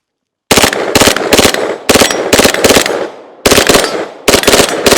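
An MP5K submachine gun fires at a shooting range in several loud, close bursts of rapid automatic shots separated by short pauses, sharp and crisp against silence.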